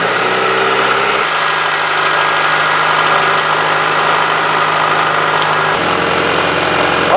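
Car engine idling steadily and close up after being started for a PCV valve vacuum check, with a constant low hum and a slight shift in pitch partway through.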